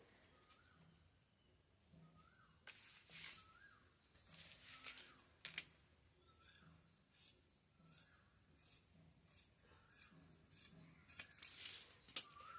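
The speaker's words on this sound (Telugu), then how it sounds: "ఫస్ట్ ఇలా ఎక్స్ట్రా క్లాత్ని అయితే కట్ చేసేసుకోవాలి" Scissors snipping through folded blouse cloth with its lining layers, a run of quick, fairly faint cuts coming in small bursts with brief pauses between them. Faint bird coos can be heard in the background.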